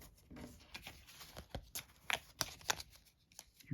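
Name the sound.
handling board game cards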